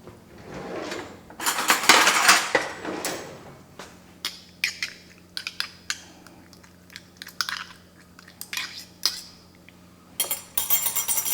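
A spoon stirs horseradish in a small container at close range: clinking, scraping taps in irregular bursts, louder at first and then quieter, with no talk.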